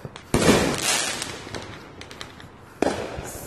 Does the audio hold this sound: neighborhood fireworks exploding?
yes